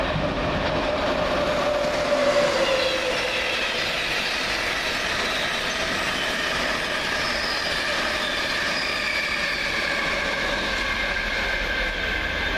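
Train passing through Doncaster station, a loud continuous rumbling roar of wheels on rails with faint squealing tones, sustained throughout at close range.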